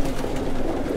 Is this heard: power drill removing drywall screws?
no